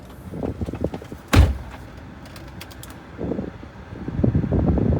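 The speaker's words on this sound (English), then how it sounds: "let's close the door." A car door closes with one sharp, loud thud partway through, set against a steady fan-like hum and light mechanical rattling from a mobile mechanic's vehicle.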